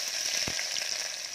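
Cumin seeds hit hot oil in a pan with a bright, dense sizzle, one soft thump marking the drop early on before the crackling settles into a steady fry.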